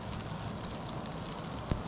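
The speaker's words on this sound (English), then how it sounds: "It's raining right now." Steady rain falls outdoors in the northwest Florida woods, a constant soft hiss with one brief, close tap near the end.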